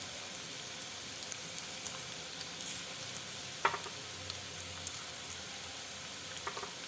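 Poha balls and wheat flour balls go one by one into a hot oiled pan, giving a steady soft frying sizzle with faint crackles and a few small pops, fairly quiet and with no talking.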